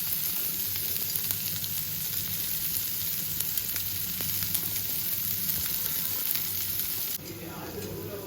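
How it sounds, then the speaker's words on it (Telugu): Onions and cabbage fry in a pan for a paneer samosa filling, making a soft, continuous sizzle and hiss with faint stirring scrapes close by, which dips slightly near the end. "ఇక్కడ కొంచెం ఫ్రై చేసుకోవాలి."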